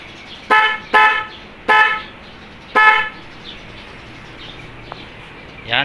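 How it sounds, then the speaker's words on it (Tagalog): Four loud, short honks from a motorcycle dual horn sound in an uneven rhythm, close by, followed by a quiet pause and faint background noise. "Ang lakas ng busina natin."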